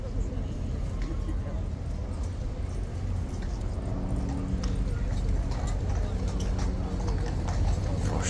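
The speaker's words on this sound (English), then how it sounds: "And the horse finally makes it to the box." Horse hooves clip-clop steadily at a guard post with a horse box, mixed into a dense, constant crowd murmur and nearby talk.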